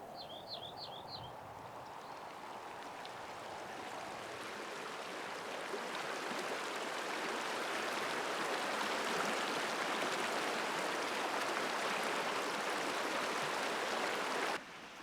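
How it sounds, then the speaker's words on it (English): Steady rushing of flowing creek water swelling gradually louder, with a brief bird chirp early on before the water dominates. "the sound of moving water slowly begins to reach my eardrums"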